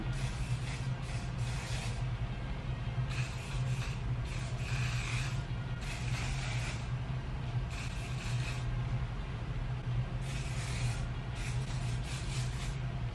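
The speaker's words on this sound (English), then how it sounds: "So I'm just gonna spray it a little bit." Repeated bursts of hairspray hissing onto hair, several short and longer puffs in an uneven rhythm, over a steady low background hum.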